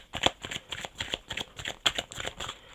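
Oracle cards laid down and shuffled by hand on a table, a quick series of crisp slaps and flicks in an uneven rhythm, close up, with no talking.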